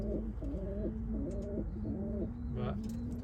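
Racing pigeons coo in a steady, repeated rolling rhythm close by, several low throaty phrases one after another over a faint background hum, with no talking.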